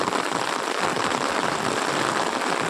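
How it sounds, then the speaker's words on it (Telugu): Heavy rain falls steadily in a village, a dense, even wash of hiss with no breaks, close and loud throughout. "వర్షం అయితే భయంకరంగా వస్తూ ఉంది."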